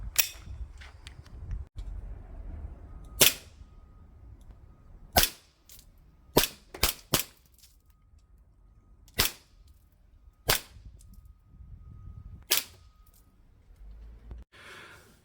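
A Sig Sauer P320 X Carry pistol fires about eight sharp, loud shots at irregular intervals, some in quick pairs, with quiet breathing and outdoor background between them.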